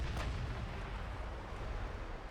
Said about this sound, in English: that was a shot across the bow